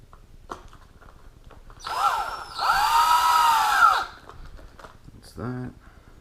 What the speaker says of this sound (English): So then take the screw gun.